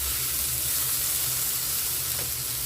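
Onion, capsicum and tomato sauté in a pan for sewai upma, giving a continuous close hiss of frying with a faint stir near the end, steady and unbroken throughout.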